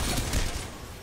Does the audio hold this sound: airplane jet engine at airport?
no